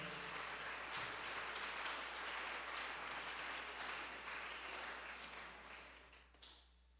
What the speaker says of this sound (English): So give them all an applause for their work there.